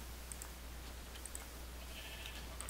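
Cloned Minecraft sheep bleat in a few short, faint calls scattered over a steady low hum.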